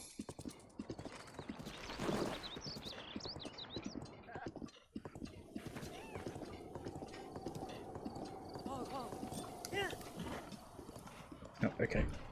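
A horse's hooves clip-clop in a steady trotting rhythm in Zelda: Breath of the Wild, with a brief whinny and someone talking over the gameplay.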